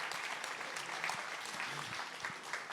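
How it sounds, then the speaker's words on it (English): Applause from an audience at Minds Fest 2024 at the Vulcan Gas Company music venue, a steady dense wash of clapping sustained at moderate level throughout with no talk over it. "Give him a round of applause."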